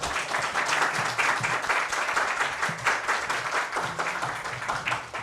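Audience at a university education-innovation event applauding, a rapid, even patter of many hands clapping at close to moderate distance, steady for the whole stretch with no talk.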